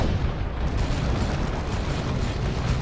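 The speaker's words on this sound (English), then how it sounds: "Autocannon doing some serious damage to that tank there, as you can see" Autocannon and tank fire in a Dawn of War 2 3v3 battle, a dense continuous roar of booms and blasts with no clear gaps, loud and steady throughout.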